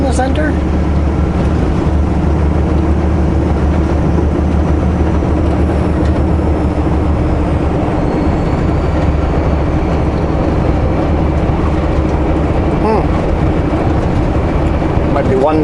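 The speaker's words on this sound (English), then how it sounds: "That seems like a nice long train" A long freight train rumbles past close by in Calgary, Alberta, a steady heavy roar with clattering wheels throughout, and a voice talks faintly underneath.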